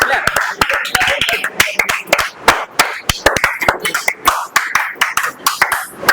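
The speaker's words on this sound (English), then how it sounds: "Hey, clap kar do yaar, clap." A small group at a group discussion session claps for a welcomed speaker, sharp individual hand claps coming unevenly and close, some in quick clusters, with scattered voices between them.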